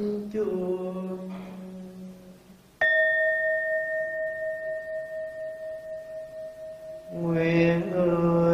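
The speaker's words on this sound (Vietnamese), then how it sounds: "nghe chuông phiền não tan mây" A Buddhist temple bell is struck once, giving a clear metallic ring that sustains and slowly fades over several seconds. Chanted singing can be heard before and after the strike.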